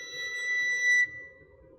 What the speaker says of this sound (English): the harmonic is created by gently touching with one more finger